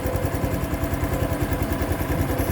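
A Honda Wave 110i motorcycle with a 110cc single-cylinder engine idles steadily up close, a quiet, even thrumming with a regular rapid pulse and no talking.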